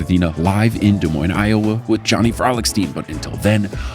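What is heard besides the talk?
No distinct noise like a dog, phone or traffic.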